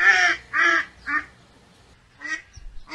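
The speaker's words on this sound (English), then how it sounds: "known for their distinctive quacking sound" Duck quacks in three quick bursts, then a pause and a couple of softer, rougher calls, fairly close with no talking.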